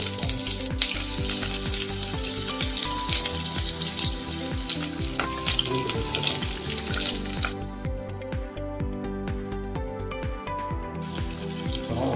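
Mustard seeds and urad dal frying in oil for a home-cooked cabbage sambar, a steady loud sizzle with faint crackles and a brief water-like hiss, no talking.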